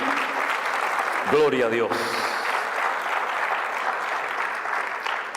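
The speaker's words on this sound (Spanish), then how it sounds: "Fuerte ese aplauso a nuestro Dios." A church congregation applauds steadily with sustained clapping during a sermon, while a preacher's voice briefly calls out over it near the start.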